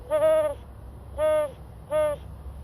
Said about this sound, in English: This is what the great horned owl sounds like. Sometimes people call it a hoot owl because it sounds like it's hooting.